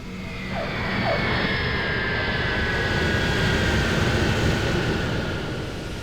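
An airplane landing on a runway, a loud sustained engine roar and whine that swells, holds steady and eases slightly toward the end, with no voices.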